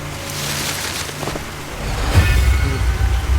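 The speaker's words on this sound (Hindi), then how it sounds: "ये तो एक झरना है" Rushing water from a jungle waterfall, a steady broadband roar that swells louder in the second half, heard close with no voices over it.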